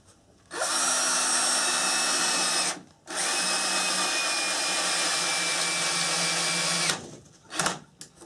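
A cordless drill driver whines loudly in long sustained bursts while driving screws into a floor joist during a bathroom remodel, with one brief pause between runs and a short stutter at the end.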